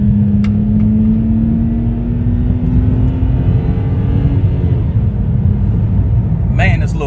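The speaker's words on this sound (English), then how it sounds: "This little car is fast." A small naturally aspirated car accelerates hard, its engine note climbing steadily in pitch through a loud, close cabin rumble, with someone talking over it.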